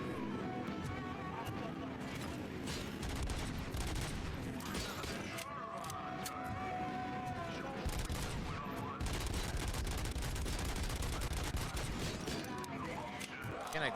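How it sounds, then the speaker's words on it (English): Dense, continuous automatic gunfire in RoboCop: Rogue City, rapid bursts layered with impacts and clatter across the whole stretch, with voices talking intermittently over the shooting. "My gun is automatic."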